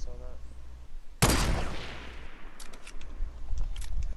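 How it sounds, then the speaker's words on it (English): Gunfire in the Fortnite video game: after a brief voice, one sharp, loud shot rings out and decays, then a few fainter shots follow in a loose rhythm. "I'm gonna just take shots to scare him off"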